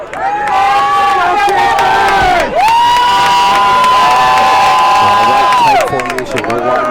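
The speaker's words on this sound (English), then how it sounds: "Come on, Beverly, let's get that cheering up." A high school football playoff crowd cheering loudly in the stands, with sustained high-pitched shouts and whoops rising in long swells, a brief dip midway, and massed voices close and strong.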